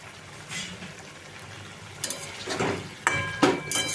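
Amaranth greens with prawns, lentil dumplings and slit green chillies sizzle in a pan on a gas stove while being stirred, with soft frying hiss and louder scraping strokes toward the end.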